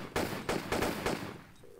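Gunfire from a Tomb Raider: The Crystals of Amun game level, aimed at jackals or temple dogs: four sharp, loud shots in quick, slightly uneven succession, then a quieter tail of game ambience.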